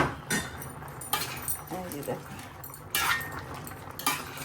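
A spoon clanks and scrapes in a pot as curry is stirred with cumin and garam masala paste, with irregular metallic knocks and a soft sizzle under a woman's speech.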